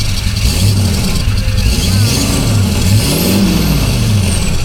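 A car engine with a freshly repaired exhaust pipe revs loudly up and down in a close, steady sound check, the pitch climbing and falling in a few swells over a constant idle drone.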